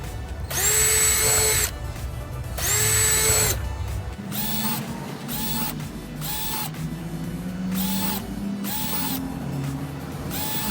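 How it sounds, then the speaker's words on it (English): A power drill with a 5/32 bit bores repeated holes through a plastic bucket, several short whining bursts with brief pauses between, close and fairly loud. "I am using a 5/32 drill bit, and I'm going to do my best to fill this up with holes."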